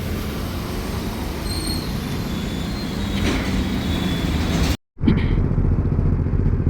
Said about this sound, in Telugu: stock exhaust